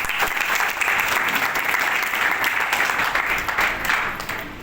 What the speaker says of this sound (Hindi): इतना जोरदार तालियां दीजिए।